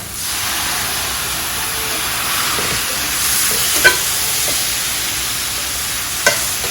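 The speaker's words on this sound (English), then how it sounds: "Give it a little mix. Let that cook a little bit." Sliced mushrooms cook with sake in a hot pan as a utensil stirs them, giving a steady close sizzle and hiss. Two sharp scrapes or clicks stand out near the end.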